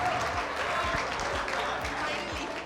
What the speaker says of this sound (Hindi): अरे क्या बात है, तालियां प्रेरित के लिए।